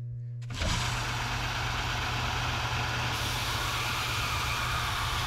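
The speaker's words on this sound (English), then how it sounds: "I'll resurrect the trusty stationary belt sander" After a brief quiet start, a stationary belt sander motor kicks on, sanding mahogany with a steady, loud broadband whir and grinding hiss, continuous throughout.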